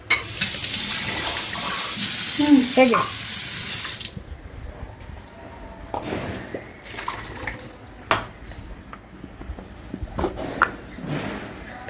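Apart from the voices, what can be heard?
water being added for fish curry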